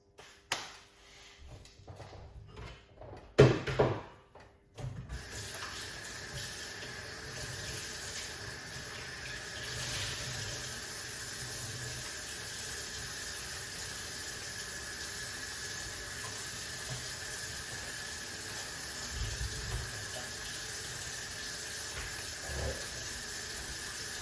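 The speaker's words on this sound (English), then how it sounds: "I'm going to strain it off, wash off the ingredients." Tap water running steadily over ingredients being washed in a kitchen sink, a continuous close hiss after a few brief clatters and knocks at the start.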